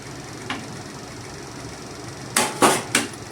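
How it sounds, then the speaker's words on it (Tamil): Knife slicing a nendran banana into small round slices on a board: one light tap, then three sharp closely spaced chops, near and clear over a quiet room. "நான் சின்ன சின்ன ஸ்லைஸாக தான் ரவுண்டாக கட் பண்ணுறேன்."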